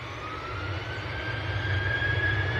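A KLM Boeing 737 from Amsterdam touches down at Manchester Airport, heard as a steady, distant jet roar with a faint rising engine whine running through it.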